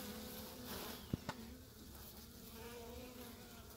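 Honey bees buzz steadily inside an opened hive as frames are gently worked through, a soft, continuous drone at low level with two brief knocks near the start.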